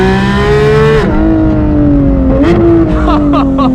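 A 2019 Porsche GT3 RS engine revs hard and pulls away at launch, a loud, rising, high-pitched wail that drops briefly at each upshift and climbs again, close and continuous throughout.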